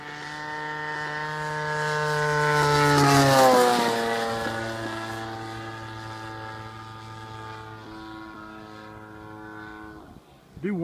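A large gas engine on a 91-inch Extra model airplane screams past at full throttle on a low pass, its harmonic whine rising to a peak near the middle then dropping in pitch as it moves away, loud and steady throughout.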